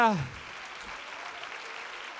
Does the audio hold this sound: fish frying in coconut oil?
no